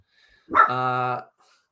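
A single dog bark, close and clear, ringing briefly before silence returns.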